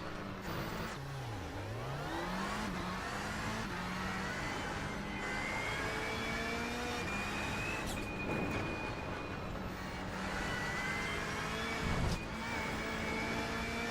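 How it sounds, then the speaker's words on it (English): Race car engine in the iRacing video game drones steadily throughout, its pitch sweeping down and back up, then holding high as it revs on, with no talk over it. "the engine sound is like half the feedback you get from the game"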